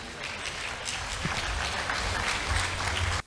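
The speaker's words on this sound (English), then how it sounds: "They definitely both need a big round of applause." Audience clapping at a preschool annual day celebration, a steady wash of applause from a crowded hall that holds level for about three seconds, with some low rumble underneath, then stops abruptly.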